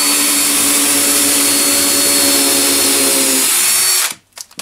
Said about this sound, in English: So anytime you're going to attach one of these skulls with a screw or anything, make sure you drill a pilot hole